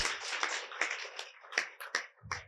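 A short round of audience clapping, a handful of distinct sharp claps spaced irregularly and heard fairly close, ending after a couple of seconds.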